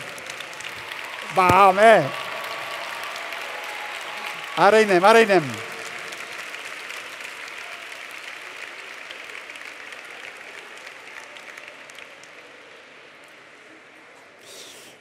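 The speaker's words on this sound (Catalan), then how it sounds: "Un aplaudiment més fort encara." Audience applause at a university graduation ceremony for 2020 and 2021 graduates, a steady broad clapping wash running through the clip, with two short bursts of loud voices chanting near the start.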